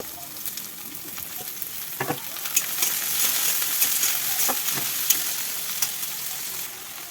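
Carrots and beans fry in a pan for fried rice with a continuous soft sizzle, while occasional spatula scrapes and knocks stand out clearly above it.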